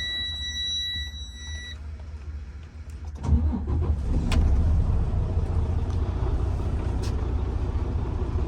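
A truck engine cranks and catches after a few quiet seconds of electronic beeping, then settles into a loud, rumbling idle heard from close by in the cab.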